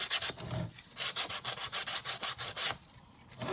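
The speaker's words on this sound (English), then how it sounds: "I'm just going to kind of sand it slightly smoother." Sandpaper rubbed over the back of a junk journal cover in quick, rhythmic back-and-forth strokes, close and fairly loud, with a short pause before the scratchy passes resume.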